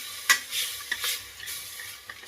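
A roasted onion, coconut, garlic, chilli and coriander masala paste is sautéed in a pan for Agri mutton rassa, with a soft steady sizzle broken by a few sharp spoon scrapes and clinks, close and alone.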